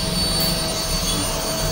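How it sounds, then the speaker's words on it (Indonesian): Vacuum cleaner powered by a 5.5 kVA hybrid inverter runs with a steady, loud whining roar, continuous and close throughout, with no talk over it. "Coba nyalakan vakum."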